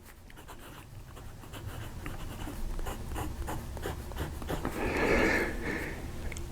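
Fountain pen nib scratching across paper at close range, a steady soft scritching with brief pen lifts and a slightly louder burst of strokes near the end, no voices.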